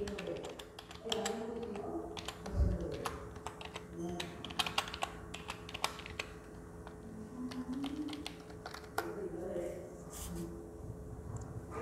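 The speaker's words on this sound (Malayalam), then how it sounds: "ഞാൻ ടൈപ്പ് ചെയ്യുകയാണെങ്കിൽ" Fingers typing on a computer keyboard, close and clear, with irregular runs of quick clicking keystrokes throughout and someone talking in between.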